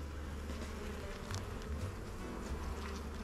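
A swarm of honey bees knocked from a tree, with a dense, steady buzzing of many insects that fills the air close by, continuous throughout and with no talk.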